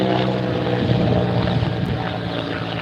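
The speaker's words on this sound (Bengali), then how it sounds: "তিন থেকে চার মিনিট পর পরে একটা হেলিকপ্টার যায় উদ্ধার করার জন্য" A rescue helicopter flying over a flood-hit area produces a steady, loud rotor and engine drone that fills the whole stretch without pause, with no talking.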